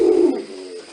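A single close, loud pigeon coo sounds in a loft, a short low throaty note that fades quickly with no speech.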